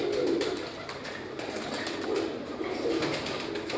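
Teddy pigeons kept as a hobby coo over and over in soft, low, rolling calls. The cooing sits at a steady moderate level with no talking.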